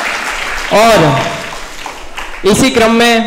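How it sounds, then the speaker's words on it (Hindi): An audience at a seminar on nonviolence applauds to welcome the speakers, the clapping rising behind a voice as he continues announcing over it. "एक बार जोरदार तालियों से मैं आपके वक्ताओं का स्वागत चाहूंगा"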